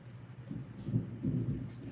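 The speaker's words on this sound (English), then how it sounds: "Do y'all hear that thunder?" Thunder rumbles low and soft in the distance, two muffled swells of deep rolling sound under a quiet background, with no talking.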